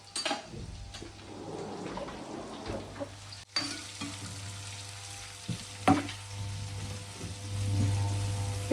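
Chopped onions frying in a pan until browned, a close steady sizzle with occasional spoon scrapes and clinks against the pan, plus a low background hum.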